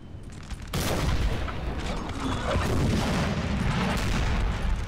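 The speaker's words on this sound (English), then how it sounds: "Spanish artillery continues to fire on the French" Sustained booming artillery barrage from Napoleonic-era cannon in the strategy game Napoleon: Total War, a loud rumbling roll of overlapping shots that starts abruptly and continues without pause.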